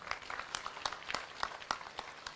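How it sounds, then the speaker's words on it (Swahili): An audience claps for Bram and his team at the launch of Nairobi City County's El Niño preparedness effort, with sparse, evenly spaced claps that sound faint and somewhat distant. "Tuwapigie makofi"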